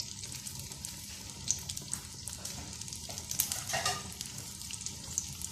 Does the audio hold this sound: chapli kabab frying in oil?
yes